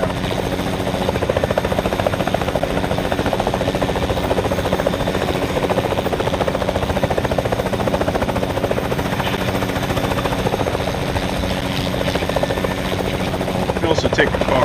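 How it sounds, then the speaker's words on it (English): A helicopter in the video game Fortnite thrums continuously and loudly throughout, a steady chopping rotor drone with faint clatter near the end. "Now we have the helicopter that's in the zone"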